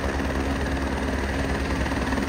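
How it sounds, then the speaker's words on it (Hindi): A helicopter approaches the Kedarnath helipad high in the mountains. It makes a steady, loud rotor-and-engine drone that fills the whole stretch with constant broadband rumble, mixed with strong cold wind and no talk. "एक और आ गया हेलीकॉप्टर, वो आ रहा ऊपर पहाड़ के वहाँ से।"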